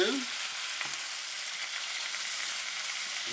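Bacon frying in a pan gives a steady, close, dense sizzle that holds evenly throughout, with a brief low thump near the start and no talking.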